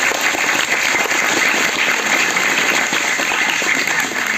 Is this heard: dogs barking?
no